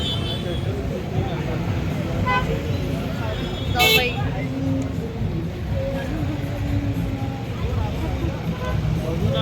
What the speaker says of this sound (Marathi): खूप ट्रॅफिक आणि रश आहे गोवामध्ये.